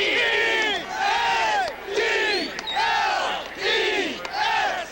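Philadelphia Eagles football crowd in 1981 roaring in rhythmic waves, a loud stadium chant that swells and falls about once a second, many voices together and no single speaker.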